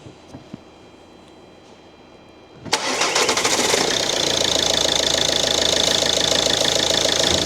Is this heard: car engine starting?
yes